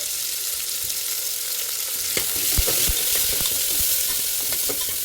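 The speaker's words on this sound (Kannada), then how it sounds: "2 ದೊಡ್ಡ ಈರುಳ್ಳಿನ ಈ ಥರ ಕಟ್ ಮಾಡಿ ಹಾಕ್ಕೊಂಡಿದ್ದೀನಿ. ಸ್ವಲ್ಪ ಎಣ್ಣೆಲಿ ಚೆನ್ನಾಗಿ ಫ್ರೈ ಮಾಡಿ" Two large chopped onions frying in a little oil, a steady soft sizzle with occasional stirring scrapes and clacks of a spoon in the pan, close and continuous with no talk.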